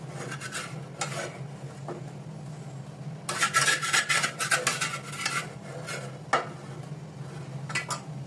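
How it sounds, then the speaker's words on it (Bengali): Dried fish (shutki) being ground with onion and salt into a paste, heard as bursts of rough scraping and rubbing, a stronger stretch in the middle, with a steady low hum underneath and no talk. "শুটকি দিয়ে বেটে নেব।"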